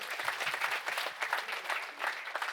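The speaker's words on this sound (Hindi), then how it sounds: "मैं चाहूंगा आप सब जोरदार तालियों से इनका स्वागत करें।" An audience at an Aam Aadmi Party workers' conference in Varanasi gives steady, dense applause for the whole stretch, with no voices over it.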